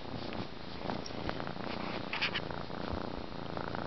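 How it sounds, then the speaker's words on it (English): A cat purring close up, a steady low motor-like rumble running continuously and softly without any talk. "You can hear her closely. You can hear her like purring."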